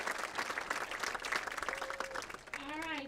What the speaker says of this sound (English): Yes, let's applaud those parents for sure.